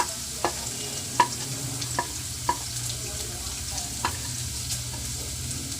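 Frying in a pan with turmeric and ginger, a soft steady sizzle broken by several sharp scrapes and taps of a spoon stirring against the pan.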